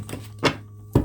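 A Lenormand oracle card deck is cut by hand, producing three soft, close knocks of cards against a table, spaced about half a second apart over a low steady hum.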